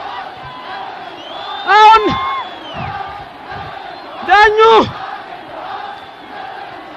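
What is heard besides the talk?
football stadium crowd cheering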